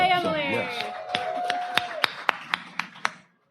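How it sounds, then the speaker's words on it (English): Applause from an audience at a live church-community event, a burst of clapping that thins into several distinct, evenly spaced claps near the end, with a voice trailing off under the start. "Well, we can clap for her anyway."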